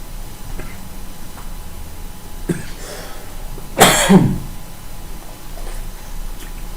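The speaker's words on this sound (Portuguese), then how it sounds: "Tossindo um pouquinho." A single close cough breaks through a quiet room, preceded by a faint throat sound.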